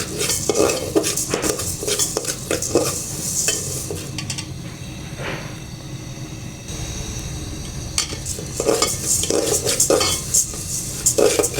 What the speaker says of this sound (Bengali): ডালগুলো এখন একটু ভাজতে হবে।